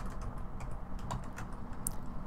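Rapid typing on a computer keyboard on a Windows 10 PC, a close run of light clicky keystrokes with a sharper final key press, no voices.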